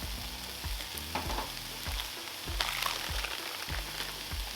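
Onions sizzle steadily on a Blackstone 36-inch griddle, a dense continuous crackle with repeated low thumps and scraping as a spatula stirs and turns them, close up with no talking.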